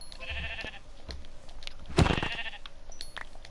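Sheep in the Minecraft video game bleat twice, a wavering call and then a louder, harsher one, each standing out clearly over faint background noise.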